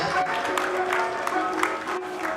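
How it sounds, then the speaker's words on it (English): People at a church reunion fundraising dinner applaud after a dance introduction, a moderate, steady spatter of clapping in a large room with faint voices mixed in. "A round of applause, ladies and gentlemen"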